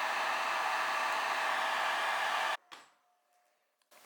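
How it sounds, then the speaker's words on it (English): A hair dryer blows a steady, close roar while it melts crayon wax to repair an end-grain cutting board. After about two and a half seconds it switches off, leaving faint handling noises. "It's melting pretty quick."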